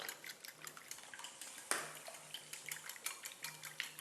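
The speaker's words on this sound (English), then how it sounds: "This is being whisked with salt and pepper" A whisk beats a mixture seasoned with salt and pepper in a bowl, quick repeated light clinks and taps in a steady rhythm, fairly faint and close, with one sharper knock partway through.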